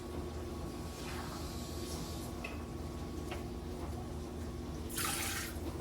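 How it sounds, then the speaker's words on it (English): Tap water running into the bottom of an Instant Pot for cooking eggs, a steady rushing flow with a brief louder splash near the end, alone with no talk. "I just got to get some water to go into the bottom of these eggs."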